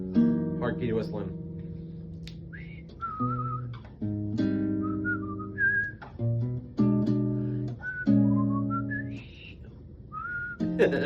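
Someone whistles a wavering tune over sustained chords, the bright notes sliding and stepping above the accompaniment.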